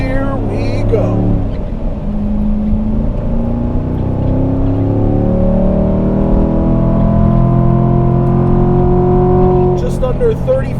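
A 2018 Corvette Grand Sport with a 7-speed manual gearbox accelerates around the Road Atlanta track, its engine note rising in repeated gear-by-gear sweeps, loud and close, with a person talking over it.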